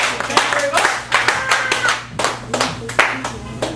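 Enthusiastic applause at a poetry open mic in a cafe gallery, close and loud, with distinct bursts of hand claps rising and falling in waves and a few voices underneath.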